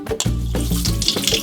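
Rice being rinsed in running water at a kitchen sink, with close splashing and sloshing as the grains are swirled under a loud tap stream.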